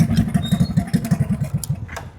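A motorcycle engine with no silencer pops and chugs in loud, rapid low pulses close by, then trails off at the end.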